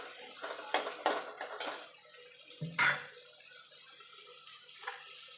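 Chopped tomato tipped into a frying pan of ginger-garlic masala for a boal fish curry: a quick series of metallic clinks and scrapes from utensil on pan, a heavier clatter, then a quieter stretch with a faint tap near the end.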